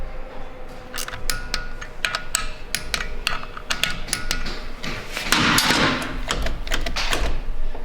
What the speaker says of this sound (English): Now we'll torque these the same as I torque quarter-inch style bolt.